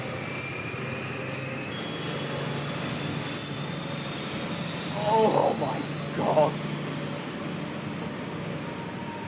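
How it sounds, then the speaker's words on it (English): Intercity 125 HST train with Valenta engines: a loud, steady, jet-like roar and whine fills the whole stretch, with two short squealing bursts midway and a voice exclaiming over it. "The sound of the Valenta engines is part of the reason I love the HSTs so much"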